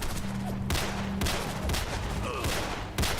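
Heavy gunfire fills a video game battle, a rapid, dense barrage of close shots that continues throughout with brief breaks between bursts.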